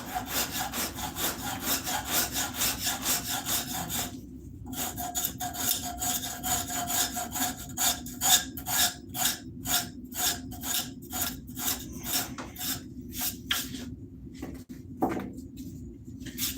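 A rasp is worked over a wooden axe handle in repeated rough strokes, a steady rhythmic scraping that grows choppier with short pauses between passes, close and clear.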